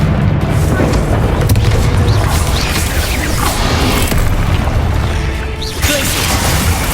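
Bombarda spell blast in the video game Hogwarts Legacy, a loud, dense booming explosion amid continuous battle din, with a player's voice talking over it.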